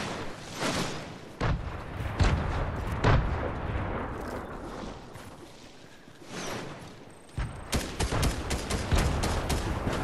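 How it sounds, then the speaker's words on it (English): Grenade explosions in Fortnite Chapter 3 Season 1 squads play, a run of loud booming blasts and rapid gunfire bursts, with a quieter stretch midway before a dense flurry of shots at the end. "I'm gonna throw nades."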